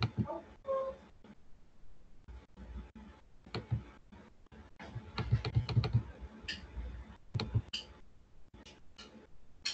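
Someone types on a computer keyboard while writing and running Java at a Unix command line. Irregular clusters of close keystrokes fall in quick runs, then pause, with a few heavier key presses.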